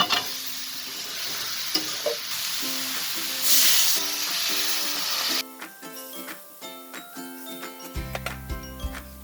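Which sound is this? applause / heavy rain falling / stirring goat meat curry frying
stirring goat meat curry frying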